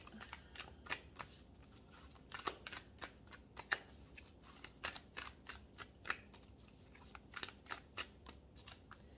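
Oracle cards are shuffled quietly and close up, giving a rapid run of soft riffling flicks and taps with no talking.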